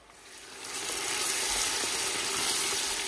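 Chopped ginger and onion drop into hot oil in a pot for beef yakhni pulao, the sizzle swelling quickly from quiet to a loud, steady frying hiss that holds to the end.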